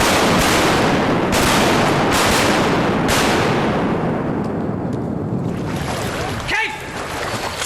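Shotgun shots on a duck hunt: several loud, sharp blasts close together in the first few seconds, ringing out over open water and wind noise, followed by a quieter stretch and a brief thump.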